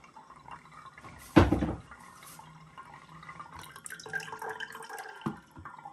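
Homemade vinegar is strained, giving a splashy pour of liquid followed by soft trickles and drips, fairly close and quiet with occasional clinks.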